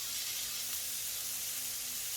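Spring roll filling sizzles steadily in a hot pan for an Indian-style spring roll, a constant close hiss with no breaks and no talking.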